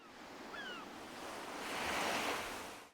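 Gentle sea waves serve as island ambience in the Animal Crossing video game, a steady soft wash of surf that swells slightly toward the end, with a couple of faint high tones early on.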